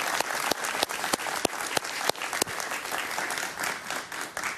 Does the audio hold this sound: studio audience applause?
yes